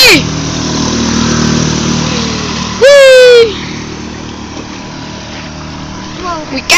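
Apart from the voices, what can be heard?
6 hp outboard motorboat passing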